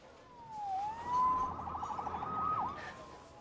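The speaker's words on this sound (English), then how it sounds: "Saved by the siren." A police siren wails in the Marvel's Spider-Man video game, a rising and falling tone with a rapid yelp section in the middle, moderately loud against a low background rumble.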